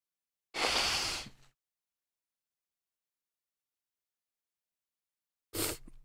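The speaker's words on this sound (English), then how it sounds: "To blow my nose real quick." Someone blows their nose: a short, forceful burst of breathy noise, then silence, then a second quicker honk near the end, close and clear.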